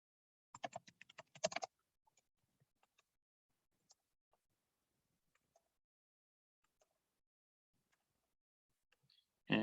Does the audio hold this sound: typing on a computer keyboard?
yes